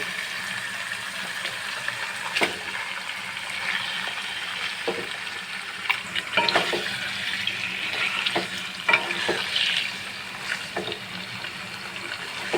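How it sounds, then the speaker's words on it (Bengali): Marinated chicken hitting hot spiced masala for Hyderabadi chicken masala over a medium gas flame, a steady hissing sizzle with scattered clicks and knocks of stirring, fairly close. "এখন আমি মেরিনেট করে রাখা মাংসগুলো দিয়ে দেবো"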